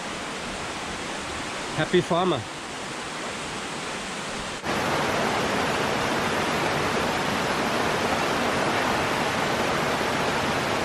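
Water from a waterfall stream at a campsite rushes as a dense, steady roar that swells loud partway through, after a brief spoken remark over quieter flow.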